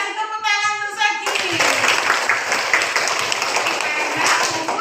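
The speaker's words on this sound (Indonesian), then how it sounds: "Kasih tepuk tangan untuk Saki." A class of children breaks into sustained applause for a classmate in a classroom, many hands clapping together in a dense, steady patter that fills the room after a brief moment of a teacher's speech.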